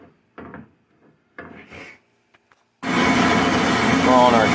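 A brake lathe cuts a 2004 Honda Pilot front brake rotor, a loud continuous grinding, rasping whir that starts abruptly partway through after some quiet handling noises and a few scattered knocks.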